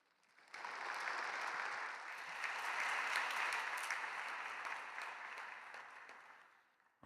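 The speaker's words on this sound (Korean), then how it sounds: "귀한 말씀 전해주신 호세 웰링턴 목사님께 감사의 박수를 드리겠습니다." Congregation applauding during a dawn worship service at Yoido Full Gospel Church, a steady, dense wash of clapping that swells in quickly, holds for several seconds and then tapers off.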